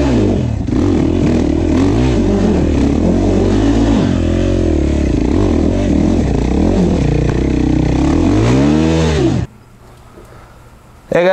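Husqvarna TE 300i two-stroke and FE 450 four-stroke enduro motorcycles rev loudly on a cave trail, engines rising and falling close by in repeated bursts until an abrupt cut near the end.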